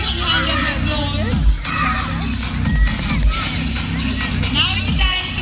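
A crowd at a Ludhiana school's annual athletic meet cheers and applauds to welcome a guest, with children's shouts and whoops over continuous noise and loud bursts throughout.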